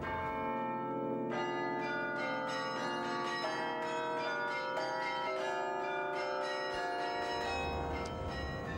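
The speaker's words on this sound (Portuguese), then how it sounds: "os carrilhões cá estão, e vamos ver que ainda há quem os toque." Carillon bells of the Mafra convent in Portugal are played by hand, ringing out a continuous melodic sequence of overlapping bell tones with a long resonant decay, heard alone with no talk.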